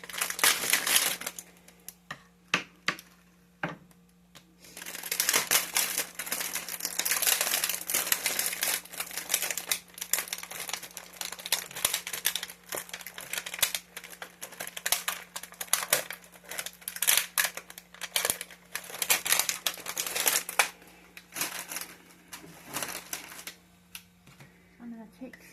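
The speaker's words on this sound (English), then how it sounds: "Handy dandy scissors." Scissors snip through gummy worms for a Halloween worms-and-dirt recipe, a dense run of rapid close crunchy cutting and crinkling clicks, with brief speech at the start.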